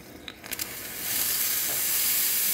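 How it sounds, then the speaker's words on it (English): The steam wand of a La Pavoni lever espresso machine opens with a few clicks, then settles into a strong, steady, close hiss that builds and holds. "Nice strong steam."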